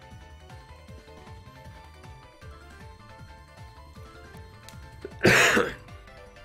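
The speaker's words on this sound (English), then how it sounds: "I must apologize for coughing and sniveling and stuff like that throughout the whole stream" A streamer coughs and clears their throat in one loud, harsh burst near the end, close to the mic, over quiet background music from Pokemon Sun and Moon.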